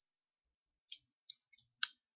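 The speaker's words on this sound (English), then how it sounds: "click T on the keyboard" Computer keyboard keys pressed in quiet surroundings, a few sparse, crisp clicks spread out, with the last one sharpest and loudest.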